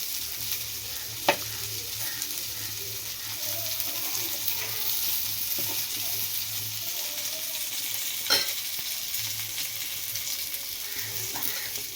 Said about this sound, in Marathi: मच्छी आपण चुलीवर फ्राय करून दाखवूया तुम्हाला